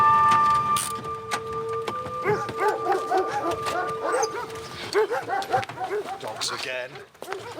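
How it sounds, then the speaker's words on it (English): Dogs bark repeatedly in short bursts, near and fairly loud, mixed with yips and whimpers while voices talk over them. "Dogs again."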